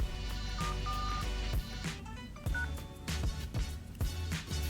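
Short electronic keypad tones from an old mobile phone dialing a star, three fours and a hash as a Kyivstar operator code, sounding as separate beeps in a quick sequence over steady background music.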